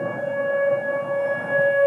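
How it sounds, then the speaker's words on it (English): A tornado siren test in Oklahoma sounds as a steady, sustained wail that stays level and moderately loud, carrying from a distance with no voices. "It's just a tornado siren?"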